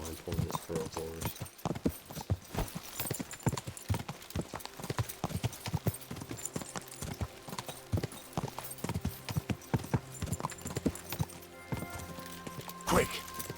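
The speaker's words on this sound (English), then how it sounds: "A weird spawn point for a horse." Hooves of a horse in Kingdom Come II clop along in a continuous, fairly quick rhythm, near and prominent, with a person talking intermittently over the steady gait.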